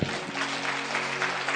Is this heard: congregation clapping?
yes